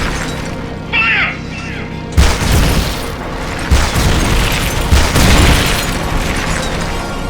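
Weapon fire and explosions in Metal Gear Solid: Peace Walker, a series of heavy booms and bursts over dense battle noise, with a shouted voice early on.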